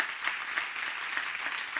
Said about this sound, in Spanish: Un aplauso para él, claro que sí